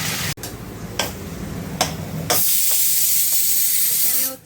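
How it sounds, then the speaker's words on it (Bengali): Onions frying in a pan during home cooking at a family gathering give off a steady broadband sizzle that grows louder partway through, with a few faint clicks and no talk. "এখানে হচ্ছে এখন পেঁয়াজ ভাজা"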